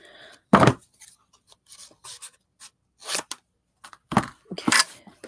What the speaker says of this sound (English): So I'll have to trim it down a little more.